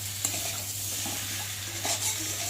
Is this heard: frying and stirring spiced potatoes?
yes